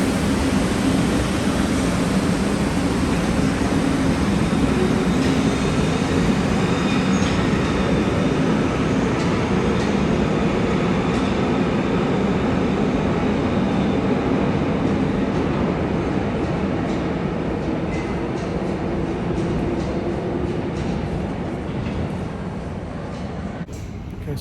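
New York subway train riding out from the World Trade Center station, a loud continuous rumble and rattle of wheels on rails with occasional squeals, slowly fading toward the end.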